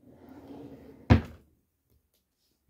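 A storage drawer in a home office and beauty room slides and lands with one sharp, close thunk after a soft rumble, followed by quiet.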